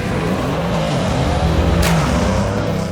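Race cars at a Karachi night drag-racing circuit, a loud, continuous engine roar with harsh broadband noise and a brief sharp burst near the middle, close and unbroken.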